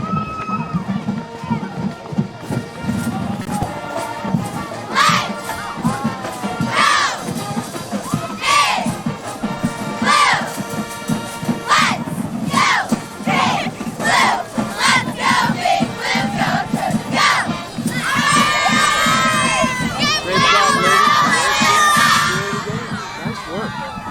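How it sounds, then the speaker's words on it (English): High school cheerleaders perform a school song and cheer at a football game, with loud crowd cheering, shouting and band-like music running continuously, punctuated by repeated sharp bursts. "It's a University Trojan song and cheer."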